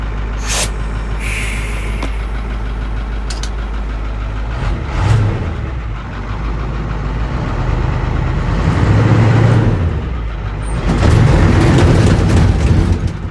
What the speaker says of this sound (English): Doing a burnout